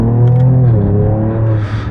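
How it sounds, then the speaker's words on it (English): A 2024 Ford Ranger Raptor pickup with its exhaust valves wide open accelerates hard in second gear, a loud, close, deep engine drone with strong harmonics that holds its pitch and then settles briefly near the end. "Let's give it the beans in 2nd. We got the exhaust wide open."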